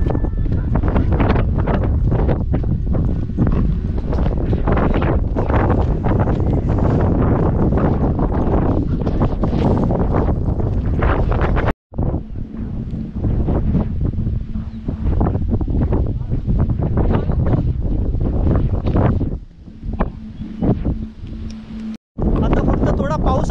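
Loud, constant wind roars across the microphone at Sagargad fort in Alibag, a dense rushing blast broken by two brief cuts, with voices partly buried beneath it.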